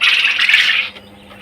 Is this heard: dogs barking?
no